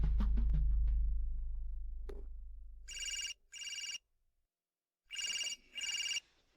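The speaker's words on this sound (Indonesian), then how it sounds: "Begitu telepon saya berdering ini" A telephone rings in two double bursts of bright electronic trilling, separated by a pause, after a low rumbling thud fades away.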